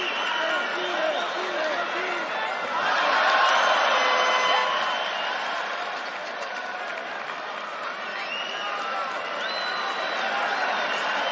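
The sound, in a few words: crowd cheering at a UFC fight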